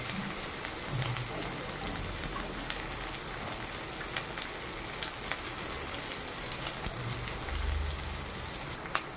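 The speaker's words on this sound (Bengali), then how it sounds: "তেলে দিয়ে দেবো পেঁয়াজ কুচি কাঁচামরিচ" Chopped onion and green chilli fry in hot oil with a dense, even crackling sizzle that runs from start to finish, broken by a few faint low knocks.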